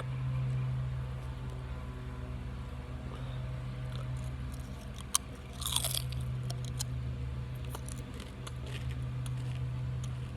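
Paqui Chile Limon tortilla chips crunch close up, with a few faint bites and chewing sounds, the loudest burst in the middle, over a steady low background hum.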